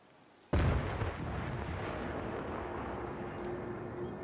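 A sudden loud explosion in Sniper Elite 5, striking after a brief quiet moment and trailing into a long, heavy rumbling roar that slowly settles but does not fade out.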